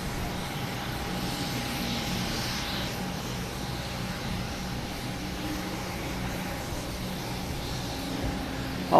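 A Delta Airbus A220 arriving at Boston Logan Airport from Raleigh-Durham produces a continuous jet engine hum with a faint steady whine, at mid distance and fairly even in level, ending in a brief louder bump, with no speech.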